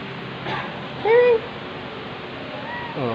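A cat meows a few times, short and fairly soft, with faint background noise between the calls.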